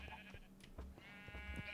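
Sheep on a video game farm bleat twice in quick succession, clear and close, with no talking over them.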